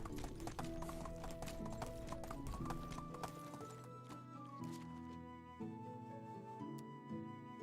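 Horse hooves clip-clopping at a steady gait while riding in the video game Medieval Dynasty, with a brief whinny, all set over background music.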